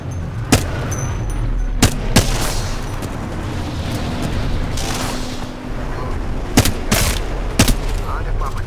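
Video game gunfire in a squad shooter match, with sharp, loud shots cracking out in irregular bursts, some paired in quick succession, over a steady rumbling background and occasional voices.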